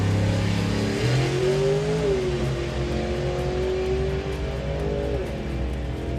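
Nostalgia hot rod drag car making a run at Santa Pod Raceway, a loud, strong engine roar that climbs in pitch through several gear changes before easing, continuous with no voices.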